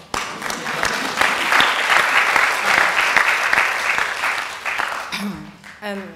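Sustained audience applause at a talk on climate, food and race, a dense even wash of clapping for about five seconds before it breaks off and a voice begins.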